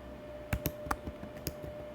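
Several quick keystrokes on a computer keyboard, close and distinct, tapped in a short irregular burst over a steady low hum.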